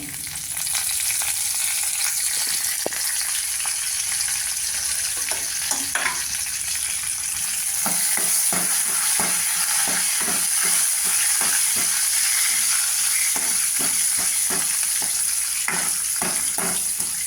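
Cumin, curry leaves and urad dal fry in hot oil for cabbage sambar. A steady, loud sizzle carries on throughout, with repeated scraping taps as the tempering is stirred in the pan.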